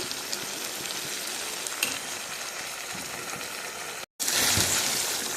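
Fish fat frying in a pan over very low heat gives a steady, close, dense sizzle that cuts out for a moment near the end and then returns slightly louder.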